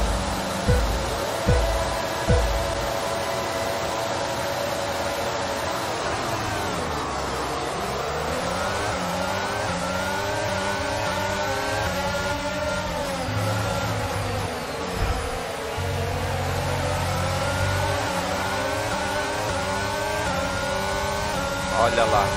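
F1 cars revving at the race start in F1 22 on the Austria circuit, a dense, sustained engine drone with rising and falling pitch sweeps, steady and fairly loud for over twenty seconds, with a voice talking over it.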